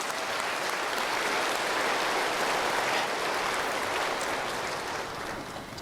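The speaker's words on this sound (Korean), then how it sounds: "박수해 주세요" A large church congregation at a Korean worship service claps for the people in the upper balconies, a dense, even wash of applause sustained throughout, heard from a distance and slightly fading at the end.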